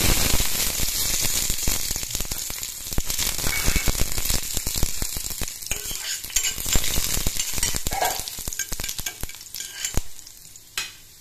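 Sliced garlic sizzles in hot mustard oil in a kadai, a loud, continuous frying hiss with frequent stirring scrapes and clicks, and no one talking.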